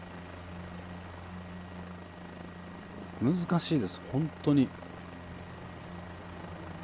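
Helicopter flying over the Nürburgring in Microsoft Flight Simulator: a steady, low, droning rotor and engine hum throughout, with someone speaking briefly over it.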